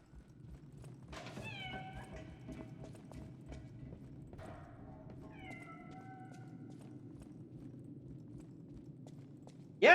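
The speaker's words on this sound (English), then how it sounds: "Yeah, that's the cat." A cat in the video game Lies of P meows twice, a clear drawn-out call followed a few seconds later by a shorter one, over a steady low rumbling ambience with faint clopping.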